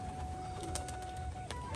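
Giribaz pigeons in a pigeon loft give soft, low cooing calls close by, with faint wingbeats and chirps over a steady background hum.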